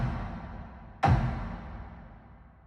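A single hard industrial kick drum hits once through a fully wet convolution reverb, a sharp thump followed by a long, fading wash of reverb tail over a soft noisy bed.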